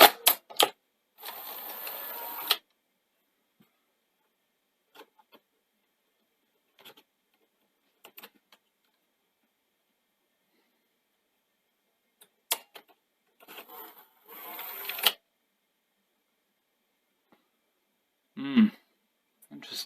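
A Sony SL-F1 portable Betamax deck loads and ejects a tape, giving short mechanical whirs, clicks and clunks separated by quiet gaps, with a brief voice near the end.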